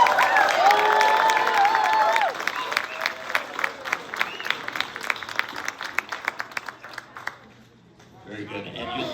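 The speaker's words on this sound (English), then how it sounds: "they are deserving of just an applause such as that" An audience at a middle school and high school band Christmas concert claps and cheers in a full burst of applause that thins into scattered claps before a brief lull.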